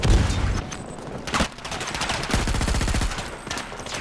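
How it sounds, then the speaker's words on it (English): Rapid gunfire from an MTAR rifle build in a shooter game, several loud close bursts and sharp cracks spread across the moment, with a distant rattle between them. "Who's shooting me here?"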